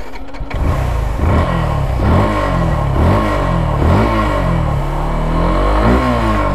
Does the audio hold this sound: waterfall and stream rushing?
no